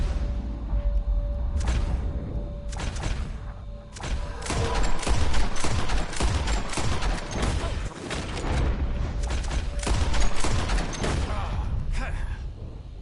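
Rapid gunfire crackles through a video game shooting contest as birds are shot out of the sky, with dense, repeated bursts of shots and thuds across the whole stretch and a voice speaking intermittently beneath them.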